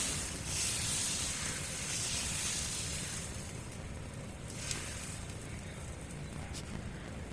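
Sorakkai dosa (bottle gourd dosa) cooking on a hot griddle over a medium flame, giving a steady soft hiss and sizzle that fades slightly after the first few seconds, with no talking.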